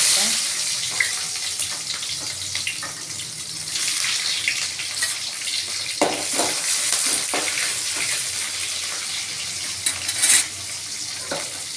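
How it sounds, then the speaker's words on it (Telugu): Onion frying in a pan for Andhra-style borugulu: a steady, close hiss of sizzling oil with brief scrapes of stirring throughout, and no talk. "ఇప్పుడు ఆనియన్ వేస్తాను"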